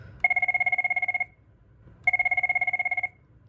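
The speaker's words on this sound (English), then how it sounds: "the first one here we have is Chirp 1, which is the signature Cisco ringtone." A Cisco desk phone plays its Chirp 1 ringtone: two identical bursts of rapid trilling chirps, each about a second long with a pause between, clear and isolated.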